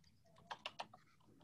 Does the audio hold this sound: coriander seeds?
no